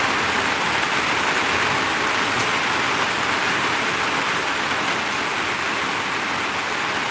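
Heavy rain pours outside a home in a loud, dense, unbroken hiss that holds steady throughout, with no voices over it.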